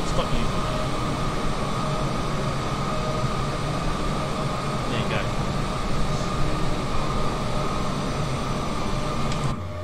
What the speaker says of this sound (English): But also listen to how quiet the 787 is as well.